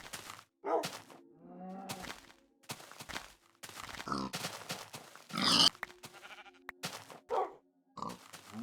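Pigs grunting and squealing in Minecraft, several short snorts and grunts in a busy rhythm mixed with game sound effects, fairly close and loud.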